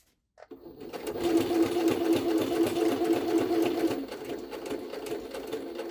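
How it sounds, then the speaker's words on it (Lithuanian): A Jaguar SJ-23 sewing machine stitches through four layers of leather with an ordinary needle, running in a steady fast mechanical whir with an even stitching rhythm from about half a second in, close and alone. "Ir dabar tęsim siuvimą toliau."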